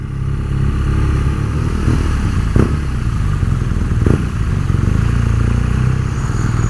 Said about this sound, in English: with this great engine note, hopefully traffic can hear you coming.